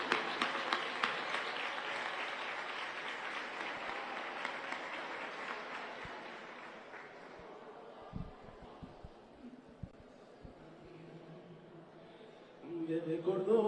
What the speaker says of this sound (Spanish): ¡Palmas a la Virgen!